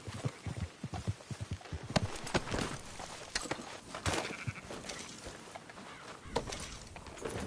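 Sheep bleat in a video game while hooves clop irregularly, a busy jumble of animal calls and footsteps that is fairly faint.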